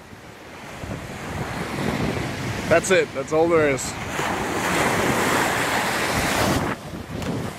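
Ocean waves break and wash steadily onto a beach, a broad loud roar with wind buffeting the microphone, while a person briefly speaks partway through.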